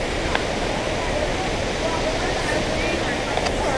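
River rapids rush near a waterfall, a continuous loud broadband roar of churning water that fills the whole clip with no pauses.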